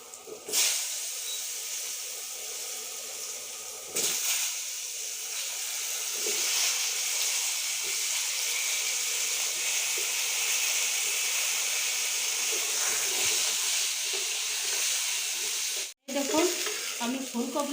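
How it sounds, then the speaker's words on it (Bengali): Sweet pumpkin fries in a pan with a loud, steady hiss and sizzle, broken by a few bumps and stirring knocks near the start and end, with no talking. "এখন আমি দিয়ে দিচ্ছি মিষ্টি কুমড়াটা ভেজে দিচ্ছি আমি"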